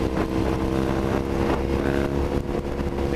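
A Triumph Thruxton 900 twin fitted with a MotoVas British Customs slip-on exhaust revs hard, a loud close engine roar holding steady and rising slightly with throttle, with no voices.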